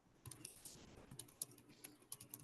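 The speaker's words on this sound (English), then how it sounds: "there's a weird clicking sound" Faint, rapid clicking of keys being typed, irregular bursts of small taps at a low level with no voices.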